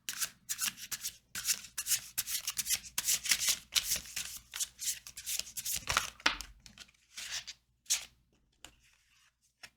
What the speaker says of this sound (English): We're just going to pull some more cards for you.